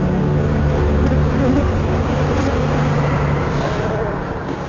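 Honey bees buzz in a dense, steady drone close by, a continuous hum that fades a little at the end, with some low rumbling mixed in.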